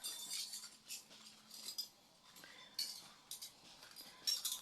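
Bowls and dishes being washed, with quiet clinks and clatters of cutlery and crockery coming in irregular small bursts at low volume, and no talking.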